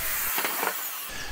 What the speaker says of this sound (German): dann hier ein Loch bohren